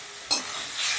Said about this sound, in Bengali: এবারে আমি দিয়ে দিচ্ছি চিকেন কিমা। এবারে এই কিমাটা দিয়েও ধরো আমি 10 মিনিটের মতন বেশ ভালো করে কষে নেব।